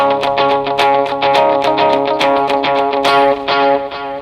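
Electric guitar through an Axe-FX preamp plays a song's part, a rapid, even stream of delayed, chiming picked notes ringing together in a dense, sustained wash with no pauses.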